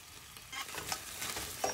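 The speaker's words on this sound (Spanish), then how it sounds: "que se sofría bien la cebollita con el ajo" Onion and garlic sautéing with seasoned beef in a pan for a beef and chard soup, a soft steady sizzle with a few stirring scrapes, close and fairly quiet.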